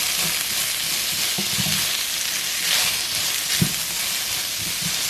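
Rice cake slices stir-fried with salt and olive oil in a pan, giving a steady close sizzle with soft scraping stirs throughout, no voices.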